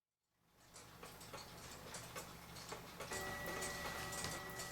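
A vintage Chinese clock ticks steadily and fairly close, a regular mechanical tick-tock with faint gear and ratchet clicks, no talking over it.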